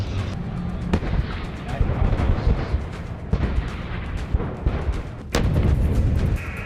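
Pakistani army artillery firing during a desert exercise in the Thar near Bahawalpur, a dense, continuous rumble of blasts with sharp loud reports near the start and again toward the end, no voices.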